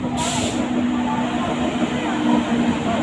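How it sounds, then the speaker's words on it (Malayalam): A passenger train moving along the line near Velankanni, a continuous heavy rumble and rattle of wheels with a steady tonal hum and a brief hiss at the start, close and loud throughout. "ട്രെയിൻ പോകുന്നു."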